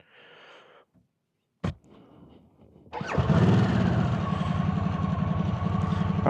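A Harley-Davidson Sportster S 1250 motorcycle fires up after a few quiet clicks and a short starter burst, then settles into a loud, close, rumbling idle.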